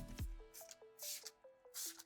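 Detailing product sprayed by hand onto a panel of a brand-new VW Taos: several short, close hissing spray bursts spaced through the moment, with no talking.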